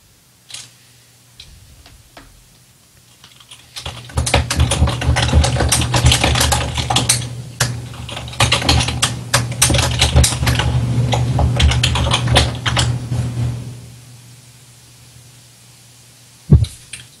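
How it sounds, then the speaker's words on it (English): Rapid typing on a computer keyboard during a podcast recording, a dense, close clatter of keystrokes running for about ten seconds over a low steady hum, then stopping, with one sharp knock near the end. "It just gets noisy when you type."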